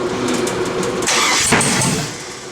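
An engine in an LS swap project cranks and runs rough with irregular popping, lacking idle control; a loud broadband burst of engine noise swells then settles, close and alone.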